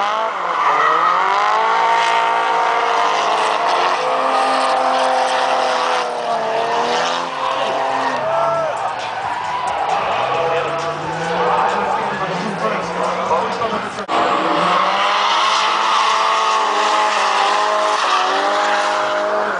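Drift cars slide around the Sonoma track, with loud, continuous engine revving and wavering tire squeal that rise and fall throughout, while people talk nearby over the noise.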